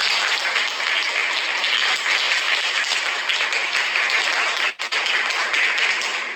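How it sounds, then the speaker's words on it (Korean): Audience applause welcomes a guest journalist at a talk, a steady dense wash of clapping that holds evenly throughout with a brief dip near the end. "강충 기자 선생님 박수로 맞이해주십시오."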